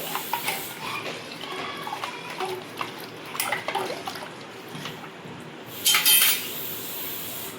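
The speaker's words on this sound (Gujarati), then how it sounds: "હવે તેમાં આપણે બરફ એડ કરી લેવાનું છે અને બધી જ વસ્તુને મિક્સ કરી લેવાનું છે." Ice is stirred into pani puri spice water, giving close, intermittent clinks and light sloshing in uneven bursts, with no one talking.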